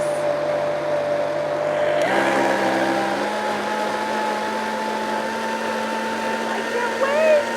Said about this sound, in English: let's continue to blend